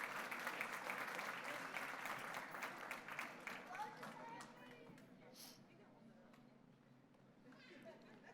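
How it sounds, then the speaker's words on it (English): A school board meeting audience gives a round of applause for the boys' track team, loud dense clapping at first that gradually thins and fades, with some murmuring underneath. "Let's give the boys track 2024 season a big round of applause"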